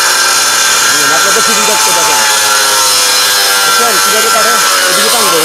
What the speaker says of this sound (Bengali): আমরা মাত্র তেরোশো পঞ্চাশ টাকা দিয়ে গ্যান্ডিং মেশিন দিয়ে কীভাবে কাজ করে দেখেন